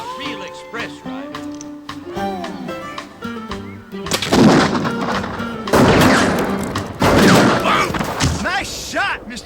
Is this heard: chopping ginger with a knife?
no